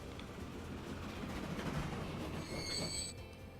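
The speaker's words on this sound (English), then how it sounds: "this is one of my steel trains" A steel-hauling train in Transport Fever rumbles steadily along the rails, with faint wheel squeals near the end, at a moderate, even level and with no talking.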